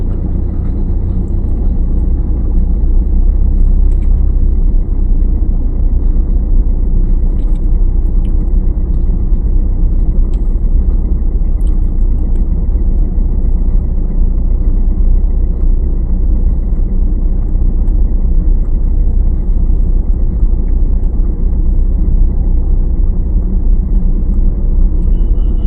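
A car rolls forward during a driving lesson, giving a steady, loud low engine and road rumble throughout with no talk over it.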